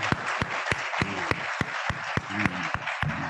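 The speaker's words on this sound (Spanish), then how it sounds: "Yo creo que hay que dar un aplauso" Sparse applause at a small academic gathering celebrating Rolando's 80th birthday, a few loud, distinct claps in an irregular rhythm with some faint voices in between.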